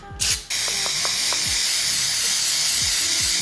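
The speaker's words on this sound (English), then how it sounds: "So after you've sprayed a little cleaner in there" Carburetor cleaner sprays from an aerosol can into the carburetor of a 2008 Honda CRF450R dirtbike, a loud steady hiss after a few brief clicks, close to the microphone with no talking.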